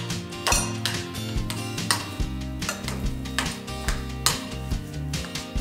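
Pogaca dough ingredients being mixed in a bowl, a run of light clinks and scraping knocks of a utensil against the bowl, close and fairly quiet over soft background music, no talk.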